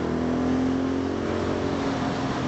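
BSA Goldstar motorcycle with stock exhaust revving hard up to its rev limiter, a steady loud continuous engine drone held throughout with no voices.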